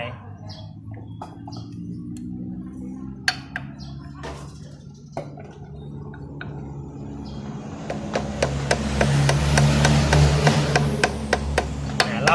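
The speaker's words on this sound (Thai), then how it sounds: "ผมก็จะใช้ค้อนตีกิ๊บตัวเดิมเนี่ยนะครับ ค่อยๆเคาะลงไป" Sharp hammer taps on metal, seating a new seal on a Yamaha motorcycle's swingarm bearing, a few scattered strikes at first, then a quicker, steady series of close knocks over a low background hum.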